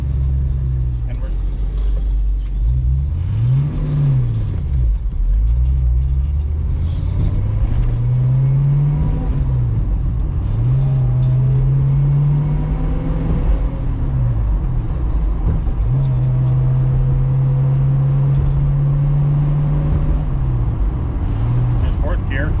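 A 1966 Ford Mustang with Holley Sniper fuel injection drives on a test run, its engine droning loud from inside the car, revs rising and falling through several gear changes, with occasional speech beneath.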